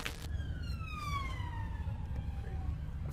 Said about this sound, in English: a police car with sirens can be heard in the background